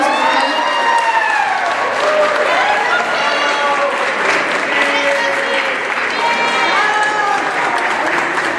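A school audience claps warmly for a first-place student at a chess contest awards announcement, a dense, steady round of applause with music playing underneath.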